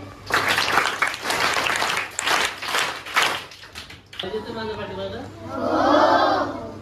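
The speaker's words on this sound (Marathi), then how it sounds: "पुन्हा एकदा तुमच्यासाठी देखील जोरदार टाळ्या." A crowd claps loudly for a student at a school welcome and book-distribution event for the new academic year. A few seconds of dense clapping then give way to a person talking.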